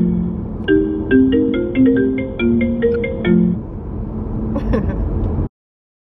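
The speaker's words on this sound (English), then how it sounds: "Let me answer this phone call or whatever." A phone ringtone plays a bright, repeating melody of quick electronic notes. It sounds close and clear, runs for several seconds and then cuts off abruptly.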